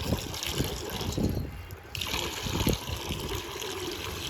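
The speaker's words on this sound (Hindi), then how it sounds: "भाइयों पानी दे दूँ मैं, इधर से आ जाओ।" Water is poured out for pigeons to drink, a continuous trickling and splashing that runs nearly throughout with a brief dip midway, heard fairly close and moderately loud.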